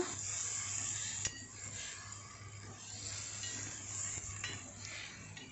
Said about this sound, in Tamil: நண்டை நல்லா கிளறி விட்டுக்கிட்டே இருங்க